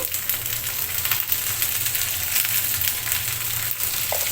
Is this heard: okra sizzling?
yes